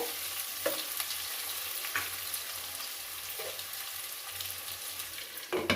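Sliced onions cook with bitter gourd in a pan, sizzling softly and steadily throughout, with occasional scrapes and clinks from stirring.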